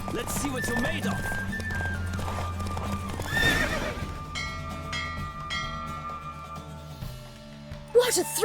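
Rhythmic hoofbeats of a galloping horse in a Witcher 3 horse race with a whinny, game-style effects and music beneath, steady throughout with a sharper burst near the end.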